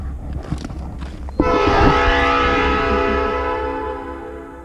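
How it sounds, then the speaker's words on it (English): An Alaska Railroad Hurricane Turn train sounds its horn at the Curry stop, a loud sustained chord that begins abruptly after a rumbling idle and holds for several seconds before slowly fading. "the train whistle means it's time to get back on"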